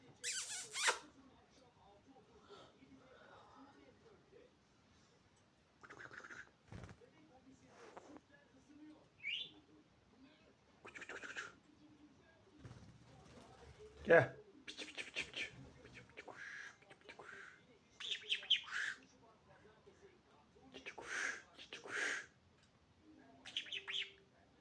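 Pet budgerigar chirping indoors, scattered short tweets and squeaky calls in bursts between pauses, fairly faint and close, with a person talking to the bird at times.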